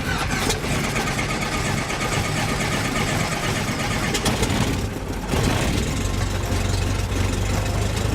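A small aircraft engine runs loud and close, a continuous throbbing drone that shifts in pitch and roughness partway through, with no talking over it.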